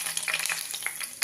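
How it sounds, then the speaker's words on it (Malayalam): Four green chillies fry in hot oil in a pan, giving a soft crackling sizzle with a few brief stirring scrapes, close and alone. "നമുക്ക് ആദ്യം തന്നെ കുറച്ച് ഒരു 4 പച്ചമുളക് നടുകേറിയത് അത് വറുത്തെടുക്കാം"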